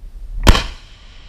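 A single sharp weapon shot at a Brazilian Air Force firing range in open, empty country, one loud close report with a deep low-end thump and a short fading tail, heard alone.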